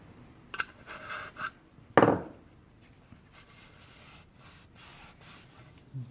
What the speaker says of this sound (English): Just gonna lightly sand the surfaces where the gasket sits.